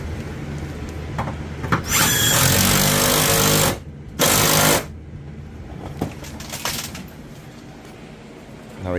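An impact wrench drives bolts on a BMW E46 M3 rear end going into a 330ci, in two loud, close bursts of whirring hammering, the first about two seconds long and the second shorter, with quieter workshop noise between them.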